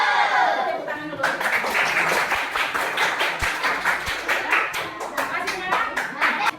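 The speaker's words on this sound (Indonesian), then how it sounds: "Tepuk tangan dulu." A classroom of eleventh-grade students claps their hands in a lively round of applause, brisk overlapping claps that start after a brief voice and continue steadily at close range.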